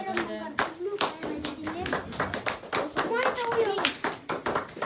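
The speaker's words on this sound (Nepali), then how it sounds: "ताली अंकित बजाऊ, ताली थापा बजाऊ" Children clap their hands in a Sunday school room, sharp irregular slaps coming in quick bursts through steady chatter and calling voices.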